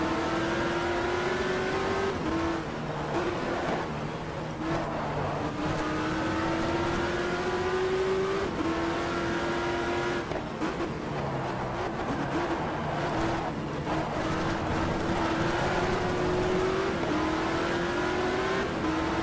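Race cars in the GTR 2 racing game drone through repeated upshifts, the engine pitch climbing and dropping in steady cycles, with other cars' engines blending into a continuous loud roar.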